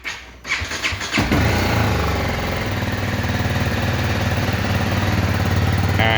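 BMW 310 GS motorcycle engine starting after a battery replacement: brief cranking, then the single-cylinder engine catches and settles into a loud, steady idle.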